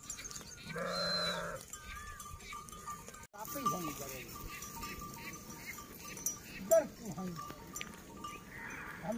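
Sheep bleat intermittently while grazing on weeds in a sugarcane field in a Punjab village, Pakistan, the calls moderately close amid rustling and outdoor ambience, with someone talking over them.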